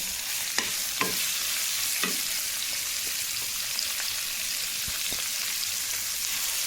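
Onions frying in a pan of oil for bhindi okra sabji, a continuous hissing sizzle with irregular spatula taps and scrapes against the pan, near and steady throughout.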